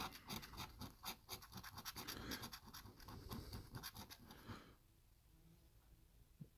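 A Monopoly scratch card is scratched with rapid, rough scraping strokes in quick bursts for several seconds, close and fairly loud, then the scratching stops and only quiet room noise remains.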